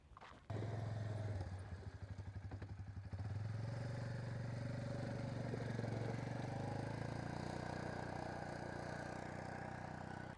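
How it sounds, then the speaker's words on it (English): An ATV engine kicks in abruptly and keeps running as the vehicle heads down a residential driveway, a loud, steady, slightly rattling mid-pitched drone with no voices. "So Trey's on the ATV right now"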